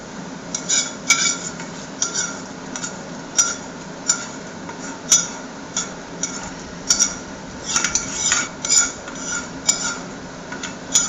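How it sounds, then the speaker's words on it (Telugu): A metal spoon scrapes and clinks against a steel vessel while tempering oil is mixed into cucumber pickle pieces, giving irregular sharp taps and stirring scrapes, close and distinct with no talk. "మొత్తం అంతా తాలింపు వేసేసి ఈ విధంగా కలుపుకోవాలన్నమాట ఫ్రెండ్స్."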